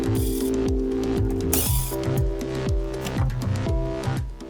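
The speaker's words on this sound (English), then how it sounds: "I'll use a T20 Torx bit to take off the motor end cap." Rapid ratcheting clicks from a driver fitted with a T20 Torx bit unscrewing the motor end cap of a DeWalt miter saw, close up and repeated in quick bursts with no talk.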